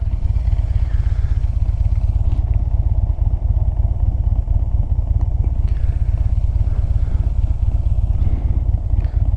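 A motorcycle being ridden, its engine a loud, steady low drone close by, with wind rush and faint road clatter and no clear changes in pace.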